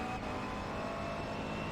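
McLaren MP4-12C engine in iRacing at Monza, a steady sustained drone of the accelerating motor, even and continuous at moderate level, with no voices.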